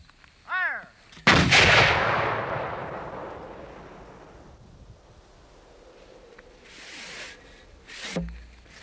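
Civil War artillery cannon firing a shell: a loud, close blast with a long rolling echo fading over several seconds in open air, preceded by a brief whistle-like tone and ending with another low thud.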